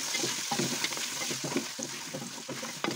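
Ginger-garlic paste is mixed into a sizzling soup pot for a makhni yakhni style soup, a steady frying hiss running throughout with soft repeated stirring scrapes and taps close by.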